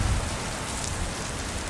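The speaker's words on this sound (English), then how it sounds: "it is raining super hard" Heavy rain pours steadily on a street in Daejeon, South Korea, a dense, constant hiss of drops on surfaces close by, with a low rumble underneath and no voices.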